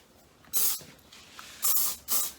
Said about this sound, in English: I lift it from the side and spray underneath